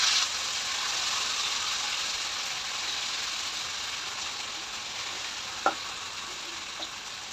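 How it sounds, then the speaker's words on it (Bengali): Marinated chicken in ghee gives a steady, moderate sizzle in a pan with no talk, and a brief utensil knock lands near the end. "এখন ঘিয়ের উপরে দিয়ে দিলাম ম্যারিনেট করা মাংসটা"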